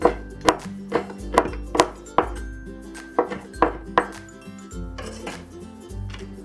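A knife shreds and cuts a mushroom on a cutting board for hot and sour soup, a series of crisp rhythmic chops with light clinks, close and unaccompanied by speech.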